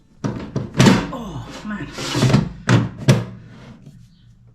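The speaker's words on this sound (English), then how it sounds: "it's a little bit tricky to open and shut the drawer" Plastic drawer of an Ultenic dual-basket air fryer being pulled open and pushed shut with stiff, uneven effort, giving several loud knocks and clunks under a man's muttered speech.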